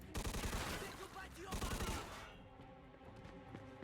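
Pistol shots during a gunfight in Mafia II, a loud close burst of rapid shots and a second volley, then quieter gunfire trailing off in the background.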